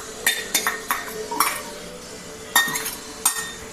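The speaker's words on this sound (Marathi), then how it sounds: "आता मी ह्याच्यामध्ये लसूण, खोबरं बारीक केलेलं भाजून घेणार." Garlic and finely grated dry coconut dry-roasting in a pan for Ghati masala, heard as a series of close metallic clinks and scrapes from stirring, about eight sharp taps spread irregularly, with only faint sizzle and no talk.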